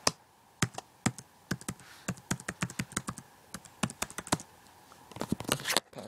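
Password being typed on a MacBook laptop keyboard, a quick irregular run of close, crisp key taps with a short burst near the end.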